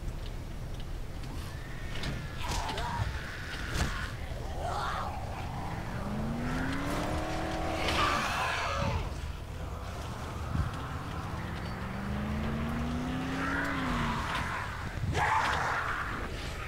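Car driven in the Dead Island video game, engine revving and rising and falling in pitch through gear changes with skidding and thumps, loud and continuous; voices talk faintly underneath.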